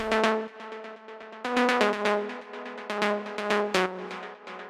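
A bright, plucky synth lead preset named June, second of two layers in a melodic techno pattern, repeats a quick rhythmic riff, notes stepping in short bursts with a sharp attack.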